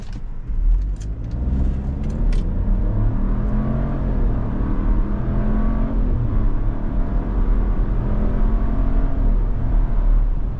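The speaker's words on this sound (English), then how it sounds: "now we're going to take off, see how this little engine does." A 2023 Chevrolet Trailblazer Activ AWD pulls away from a stop, its small engine droning and building steadily in a low rumble that stays loud and even throughout, with no talk over it.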